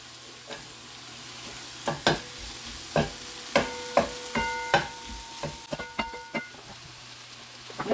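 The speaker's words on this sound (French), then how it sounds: "ajoutez-y vos oignons." Onions go into a pot for Antillean soup, sizzling steadily while a utensil stirs and clinks against the metal in irregular bursts, near and fairly loud.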